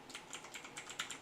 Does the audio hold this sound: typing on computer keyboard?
yes